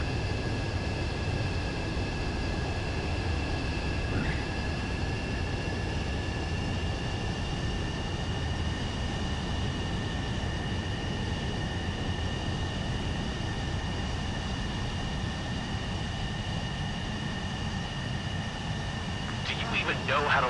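A plane landing on a runway in the Ace Combat 7 video game: a constant, fairly loud jet engine drone with a steady whine on top, holding level throughout with a brief higher flutter near the end.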